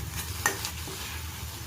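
Sweet modak filling with cardamom powder being stirred in a pan, a soft continuous scraping and light sizzle with one brief clink of the spoon, no voices.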